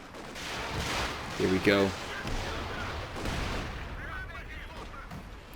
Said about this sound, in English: But one devastating barrage could be enough.